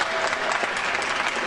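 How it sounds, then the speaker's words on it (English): A crowd at a proclamation of Jean Shepherd Day in Hammond, Indiana bursts into a short, dense round of close, loud clapping. "Let's give everybody a big round of applause"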